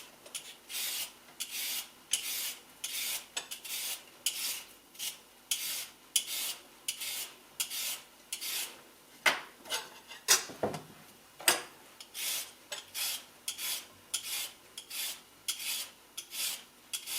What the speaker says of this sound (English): So we're just going to peel the carrots.